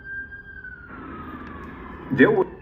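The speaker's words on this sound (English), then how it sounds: "gonna let this ambulance go past" An ambulance siren sounds in the distance as it passes, a faint, steady high tone that slowly drops in pitch, with a brief burst of a person's speech near the end.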